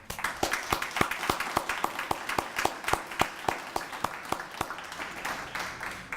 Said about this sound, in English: I want to start with giving the students a big round of applause.